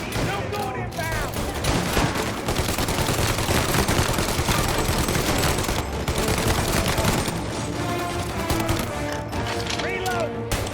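A dense gunfire shootout rages in the Mafia Definitive Edition video game, with rapid overlapping shots and bursts running throughout, loud and close, as characters shout over the fire.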